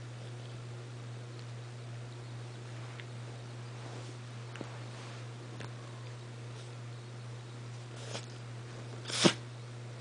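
A young puppy lets out one sharp little sneeze near the end, short and close, after a long stretch of quiet background hum with only faint rustles.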